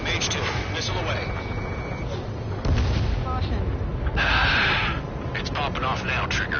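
Missile explosions and gunfire in the combat flight game Ace Combat 7, booming blasts and rumbling bursts under near-constant radio chatter, with a louder explosive burst midway.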